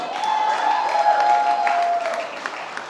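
An audience at a primary and infant school leaving ceremony applauds and cheers the graduates. The clapping is sustained and crowd-wide, a high voice rings over it, and it eases off toward the end.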